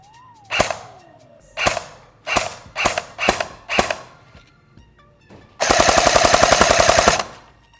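Rate-of-fire test from an H&K G36C competition airsoft AEG on a 9.6 battery: several single shots snap out one by one, then a loud, rapid full-auto burst of about a second and a half, with no talking.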